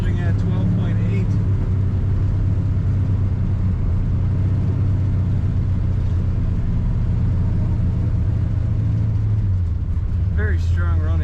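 A 1970 Chevrolet Nova with Sniper EFI runs steadily as a deep, loud, continuous engine rumble heard from inside the car, with a person talking over it.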